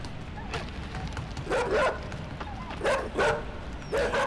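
A dog barks repeatedly in the video game Inside, several loud yelping barks in short bursts over a steady background rumble.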